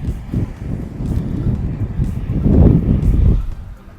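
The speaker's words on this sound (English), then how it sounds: "this wind is tough, man" Strong wind gusting outdoors on a golf course, buffeting the microphone with a loud low roar that swells and fades throughout and peaks in a heavy gust.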